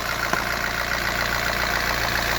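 A 2014 Chevy Equinox with the 2.4 engine idles roughly and shakes after its mass airflow sensor fuse is pulled, giving a steady, close, continuous engine drone with faint uneven pulsing and no talking.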